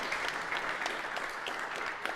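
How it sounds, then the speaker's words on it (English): Crowd applause after a Tiny Whoop drone race at a UK league finals event, a steady wash of many hands clapping at moderate distance, continuous and fairly even throughout. "Nice round of applause there from our crowd"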